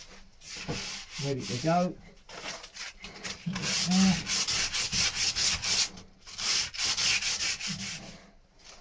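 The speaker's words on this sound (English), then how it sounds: "I'm just going to do a little bit of sanding on this bit then." Hand sanding on a boat surface, dulling an old glossy finish: steady rasping strokes in repeated bursts with short pauses, close and fairly loud, with a brief spoken remark near the start.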